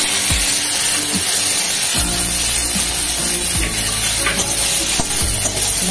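Whole spices, including cinnamon and bay leaves, sizzle in hot ghee for Kashmiri aloo dum, a loud continuous crackling fry with sharp scraping strokes of a utensil stirring the pan every second or so.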